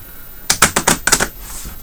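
A deck of wrestling promoter game cards is shuffled in a quick run of sharp riffling clicks lasting under a second, close and clear, with no talk.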